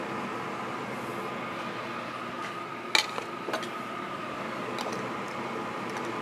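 Metal jar lids for strawberry and blueberry jam are rinsed under faint running water, with a few sharp metallic clinks near the middle and a few lighter taps afterward.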